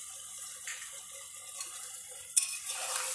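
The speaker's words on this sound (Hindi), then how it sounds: "प्याज लहसुन अदरक का पेस्ट डालकर हम दो से तीन मिनट के लिए अच्छे से भूनेंगे" Onion, garlic and ginger paste sautéed and stirred in a pan for mutton stew, giving soft scraping and gentle sizzle with one sharp clatter near the end, no voices.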